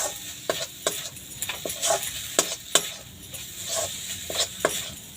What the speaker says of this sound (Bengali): এবার এর উপর দিয়ে আমি কিশমিশটা ছড়িয়ে দেব দিয়ে দু একবার একটু নেড়ে নেবো